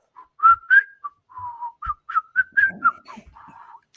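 A man whistles a quick, broken string of thin, wavering notes with short pauses between them, close to the listener and faint.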